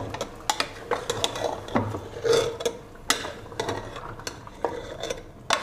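Beef in a pot stirred with garlic ginger paste, a spoon clanking and scraping against the metal in quick irregular strokes, close and clear with no voices.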